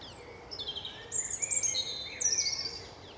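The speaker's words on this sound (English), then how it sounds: "The old blackbird's starting to sing in the background along with the robin there." Blackbird and robin singing in spring woodland with oak and pine, several clear bright phrases and trills at moderate distance over a quiet background.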